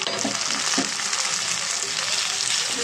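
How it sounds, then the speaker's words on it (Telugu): Onions and tomato fry in a pan with turmeric and salt for a chicken curry, a dense close sizzle running throughout with a few soft stirring scrapes. "బాగా ఫ్రై అవ్వాలి కలుపుకొని ఇద్దాం"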